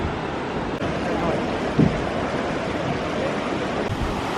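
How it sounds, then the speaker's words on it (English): Hot spring water at Yellowstone pouring into a cool river, a steady broadband rush of flowing water with constant wind noise on the microphone and a brief thump near the middle. "You can see the steaming hot water from the spring emptying into that cool river."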